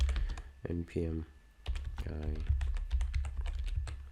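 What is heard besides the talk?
typing on a computer keyboard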